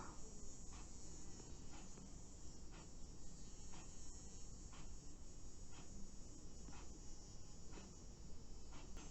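A constant buzzing drone of a housefly, steady and fairly loud against a noisy background on a balcony, with faint periodic ticks and no speech.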